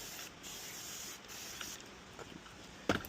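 A spray bottle mists water onto a car window before tint is applied, a soft steady hiss running through the clip with a sharper burst near the end.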